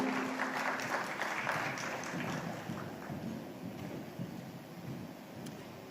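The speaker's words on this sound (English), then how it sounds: "Ladies and gentlemen, a big round of applause for Sanjay Kapoor." An audience at a business leadership awards ceremony in India gives a round of applause, a steady, even rush of many hands clapping at a distance, slightly muffled and continuous throughout.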